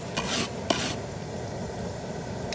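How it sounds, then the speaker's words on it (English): Sugar and oil for kettle corn sizzle in a pot while a utensil scrapes and stirs through it, with a couple of sharp scraping strokes early on over a steady close frying hiss. "we wanna keep it stirring"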